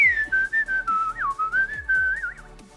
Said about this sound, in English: you know I love the whistle